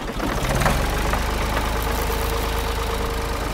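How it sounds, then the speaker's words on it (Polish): A cartoon excavator's engine starts and settles into a loud, steady rumbling run with a knocking, idling texture throughout. "Odpalam silnik i ruszam w drogę."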